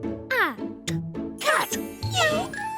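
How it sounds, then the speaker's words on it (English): A cartoon cat meows in a children's alphabet show, with several short rising-and-falling meows in quick succession, close and clear, mixed with brief animated voices and bright chimes. "Cat."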